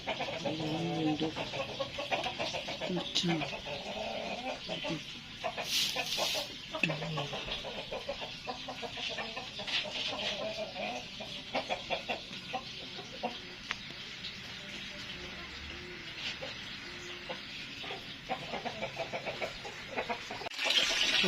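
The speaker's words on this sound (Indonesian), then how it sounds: "Ayam udah mendok, guys." Farmyard chickens clucking on and off over a long stretch, moderately near, with a few scattered background noises and a brief voice.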